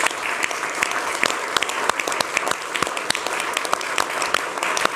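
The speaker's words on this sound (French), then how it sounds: "je pense qu'on peut l'applaudir" A studio audience claps steadily on a French political talk show, sharp individual claps forming a dense, continuous round of applause heard close and fairly loud throughout.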